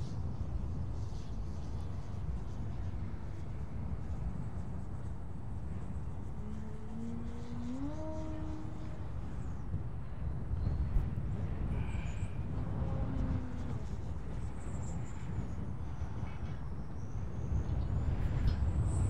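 Small RC fixed-wing model plane with a freshly balanced propeller and new spinner flying on a blustery day, a smooth rising and falling engine whine passing at a distance over steady wind rumble.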